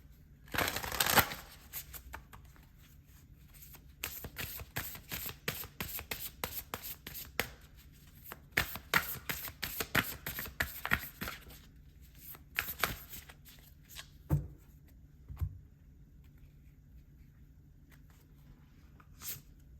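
Tarot cards shuffled by hand in a quiet room, a long run of dense riffling and flicking bursts with brief pauses, up close and alone with no talking.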